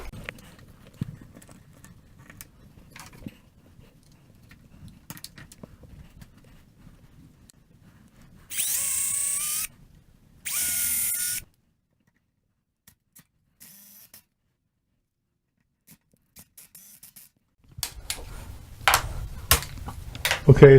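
Power drill driving screws into a hardwood bench while a vise is mounted, two loud whirring bursts of a few seconds each amid quiet handling and clatter.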